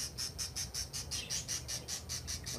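A budgie in a breeding-season aviary gives a fast, regular series of about a dozen short, high chirps, fairly faint, with no talking.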